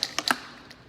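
A handheld spray bottle fires several quick bursts of mist, three sharp hissing puffs in close succession followed by a fainter fourth, close by with no talking.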